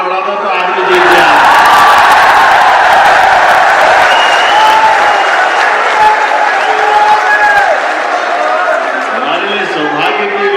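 Applause and cheering from a large audience at a state-level convention rally in Bhopal, a dense continuous roar of clapping and crowd noise that holds steady throughout at close range.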